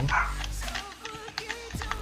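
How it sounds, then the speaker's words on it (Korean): A pet dog barking at home, with a couple of sharp, fairly close yelps at the very start, followed by quieter tapping and faint household noise. "우리 집 강아지가 또 애타게 또 짖고 있구만"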